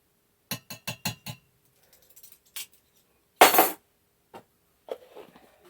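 A teaspoon clinks against a glass jar while stirring mulberry jam, several quick close taps at first, then scattered softer clinks and one louder scrape-like rattle, with quiet gaps between.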